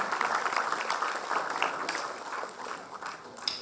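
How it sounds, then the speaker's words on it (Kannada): Audience applause welcoming a guest onto the stage at a scholarship ceremony: a sustained wash of many hands clapping at steady strength, thinning slightly toward the end. "ತಮ್ಮ ಜೋರ ಚಪ್ಪಾಳೆಗಳ ಮೂಲಕ ಶ್ರೀಯುತರನ್ನ ಬರಮಾಡ್ಕೊಳ್ಳೋಣ"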